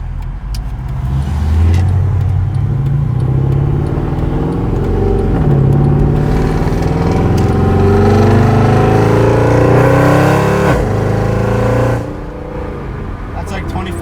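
A Honda Civic fitted with a Type R kit accelerates at light throttle, its engine drone rising steadily and then easing off near the end, with road noise from inside the cabin.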